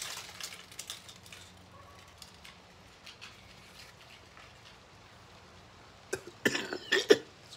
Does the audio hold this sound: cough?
yes